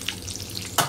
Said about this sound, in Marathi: अर्धा मिनिट आपण परतून घ्यायचा आहे हा मसाला सर्व